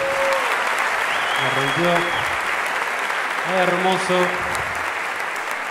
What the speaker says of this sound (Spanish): Reciban, por favor, con un aplauso